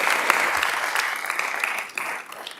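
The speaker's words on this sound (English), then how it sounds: "let's clap for that" A city council meeting audience claps steadily for a few seconds, a dense patter of hands that thins out toward the end.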